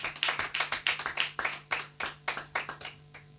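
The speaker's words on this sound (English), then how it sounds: "A round of applause for all of them." A small audience at a quiz show claps for the contestants, a sparse patter of separate hand claps in an uneven rhythm, fairly close and alone over a low steady hum.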